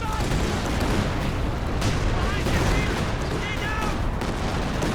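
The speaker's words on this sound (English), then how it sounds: "I hear the cannon warfare firing." Artillery and cannon fire boom and crackle continuously in a Company of Heroes 2 World War II battle, dense and loud, with a commentator talking over it.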